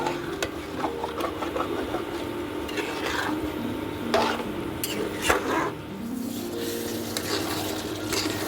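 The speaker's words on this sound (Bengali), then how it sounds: "মটনটা আমি ভালো করে কষে নেব।" Marinated mutton frying in a pan with onions while being stirred and scraped, steady sizzle with intermittent spatula scrapes, close and moderately loud, no voices.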